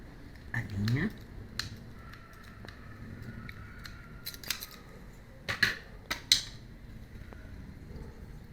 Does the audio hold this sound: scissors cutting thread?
yes